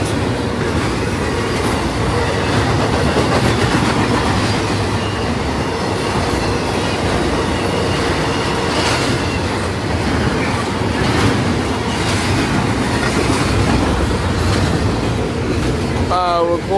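Amtrak passenger train number 19 rolls past at close range, a loud steady rumble of wheels on rail with clickety-clack joints and a brief wheel squeal near the end.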